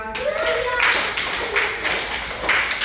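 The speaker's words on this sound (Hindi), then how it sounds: "ताली बजा दीजिए जरा" Children in a classroom clap their hands together in a fairly regular rhythm of sharp bursts, loud and close, with a voice talking over them.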